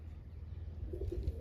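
Pet pigeons, a kalpetiya pair, give low soft coos near the end of the clip over a steady low background rumble.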